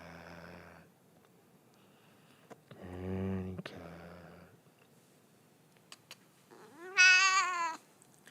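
An older cat meows indoors in a few separate, drawn-out calls, the last one loudest and rising, with quiet gaps between them and a person's voice briefly audible.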